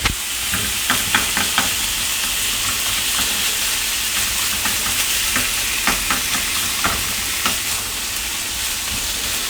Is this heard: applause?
no